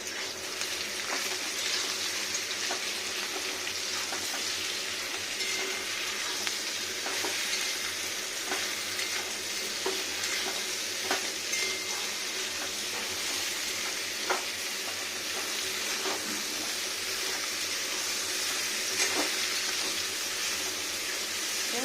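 Steady, dense sizzling of vegetables frying in a pan, continuous and close, with occasional stirring scrapes and no talking.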